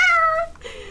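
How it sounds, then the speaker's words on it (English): A level 1 cat creature in the Palworld video game gives a single short, clear meow lasting under a second, close and fairly loud. "Look at this level 1 cat."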